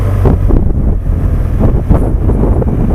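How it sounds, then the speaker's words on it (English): Strong wind buffets the microphone during a motorcycle tour in Portugal, with a constant loud rumbling roar and gusty low-frequency blasts, no voices. "It's bloody windy this morning"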